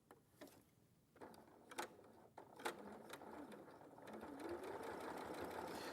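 A sewing machine stitches close to the edge of a fabric piece during a live sewing session, starting with short intermittent bursts that settle into a steady, continuous run, close and fairly quiet.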